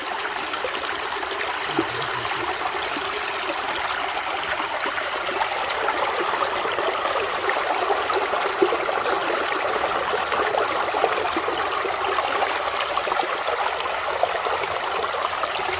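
Steady flowing water rinses mud and moss off rocks during gold prospecting in a West Virginia creek, a constant close trickling and splashing wash with no talking.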